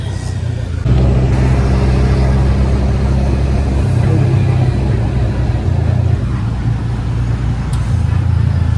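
Continuous engine drone and road noise from an auto rickshaw carrying two passengers on Manpada Road in Dombivli, with a learner driving; loud and steady with shifting revs and people talking over it.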